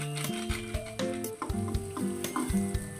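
Mango pickle stirred in a hot pan with pickle powder, a continuous sizzle broken by repeated scraping strokes of the spoon, close and moderately loud.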